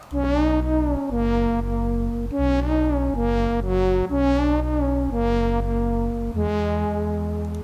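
A deep synth bass and brassy horn chords play a repeating chorus groove, sustained notes changing every second or so, full and loud with no voices.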